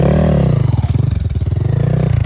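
Geon GNS 300 enduro motorcycle engine revving up close on an off-road hill, a loud throbbing, pulsing engine note that rises and falls in rapid beats throughout.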